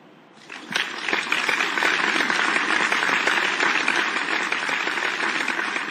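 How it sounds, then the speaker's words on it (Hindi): Schoolchildren in a classroom break into loud, sustained applause for a classmate, dense clapping rising quickly after a quiet start and continuing steadily throughout. "एक बार सभी बच्चे समीर के लिए जोर से तालियां बजाइए।"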